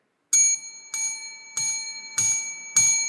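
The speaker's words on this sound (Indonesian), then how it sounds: "Pukullah lonceng itu 5 kali." A hand-struck bell hit five times at a steady pace, each bright ringing strike sustaining and fading before the next, clear and alone with no talk.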